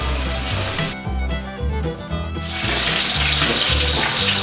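Sweet potato frying in hot oil, cooked alongside beef pochero: a steady, loud crackling sizzle that briefly dips and then grows stronger and denser, heard under background music.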